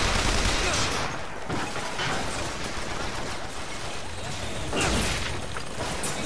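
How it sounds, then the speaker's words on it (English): Machine gun turret fire in Bioshock Infinite: a dense, continuous rattling barrage of gunfire that stays loud and close for the whole stretch, with brief swells in intensity. "Let's do the MG turret."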